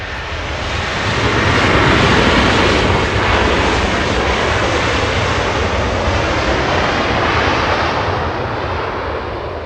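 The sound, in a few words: airplane engine at Los Angeles International Airport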